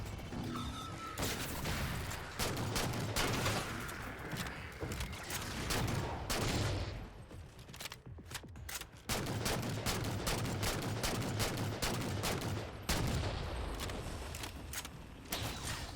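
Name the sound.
gunfire in the video game Halo 4 Spartan Ops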